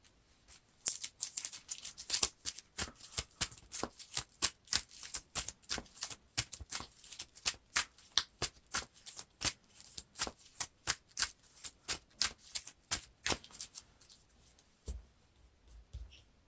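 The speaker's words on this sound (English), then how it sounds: "At least I get to shuffle my deck." Rapid crisp riffling and snapping of a Lord of the Rings card game deck being shuffled, repeated in quick bursts with brief pauses, close and fairly quiet with no talking.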